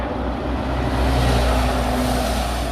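Military lorry driving past, a loud, close engine rumble with broadband road and wind noise, steady for a few seconds.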